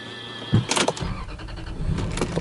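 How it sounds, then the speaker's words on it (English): Electric motorized steering wheel adjusting in a 1997 Toyota Celsior (Lexus LS400), a short mechanical motor whir with a faint click, heard close inside the quiet cabin. "Auto steering wheel."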